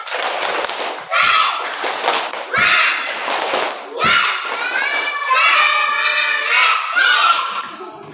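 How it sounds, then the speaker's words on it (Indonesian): A group of teachers performs a rhythmic clapping chant, bursts of claps separated by brief pauses with loud shouted and sung voices over them. "Tepuk semangat."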